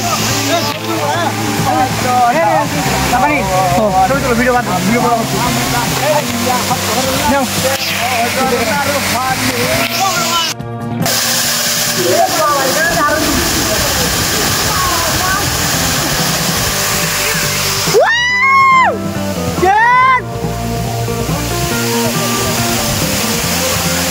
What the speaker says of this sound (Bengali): এই সেই ঝর্ণা,